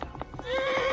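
A horse in Kingdom Come: Deliverance clops along with a few quick hoofbeats, then lets out a loud, close neigh that carries through the second half. No talk is heard.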